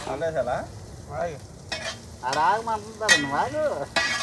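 Chilies, onions, ginger and garlic fry in a pan for Andhra village-style spicy tuna pidupu, with a steady sizzle under repeated scraping and stirring strokes of a utensil, close and moderately loud.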